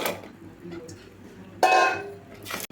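Dry butter bean seeds tip into a frying masala in a pan. A sharp clattering rush rises midway and fades, and a shorter rattle follows near the end over a low background.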